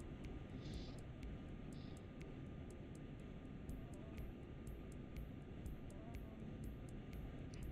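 An airplane engine in a video game, throttled down, droning as a steady faint hum with soft ticking clicks throughout, no talk over it.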